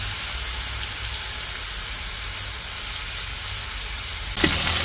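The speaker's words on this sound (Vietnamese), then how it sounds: "Để lên dầu nè, chiên." Fish cakes fry in a small amount of hot oil in a fish-trapping cooking scene, a steady close sizzle with a brief louder spatter near the end, no talking.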